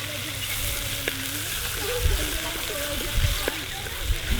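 Chili pieces and spices sizzle and fry in hot oil for Gujarati kadhi, a steady crackling hiss with occasional stirring clinks and spatters, while a voice talks over it.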